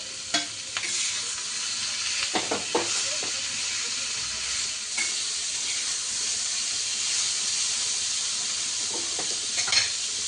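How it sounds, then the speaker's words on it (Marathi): Ginger, tomato and garlic masala roasts in a home kitchen pan for a spicy sukka chicken, giving a steady close sizzle and hiss with occasional scraping stirs. "आलं टॅमॅटो लसूण सगळं भाजून घ्यायचं"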